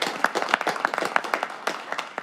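Scattered hand claps at a council meeting, individual sharp claps from a modest group in an irregular rhythm, fairly close and clear.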